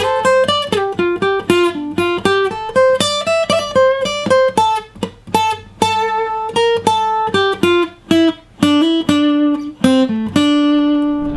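Acoustic guitar playing lines one to three of an unplugged solo: a clear melodic run of plucked single notes and bends with brief pauses, close and solo, ringing out on a held final note.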